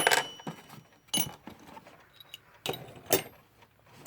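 A set of metal keys from a bundle of Westclox clock parts jangles close by in several short, bright rattling bursts separated by quiet gaps.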